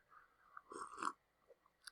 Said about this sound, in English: Sorry for slurping the coffee.